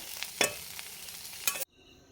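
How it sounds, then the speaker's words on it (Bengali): A vegetable fry for eating with dal sizzles softly in a pan, broken by a few brief scraping stirs, then cuts off abruptly near the end. "একসঙ্গে দিয়ে একটা ভাজা করছি ডালের সঙ্গে খাওয়ার জন্য"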